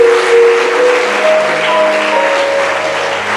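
A church congregation applauds the Lord, with loud, dense, sustained clapping and a few voices calling out over it.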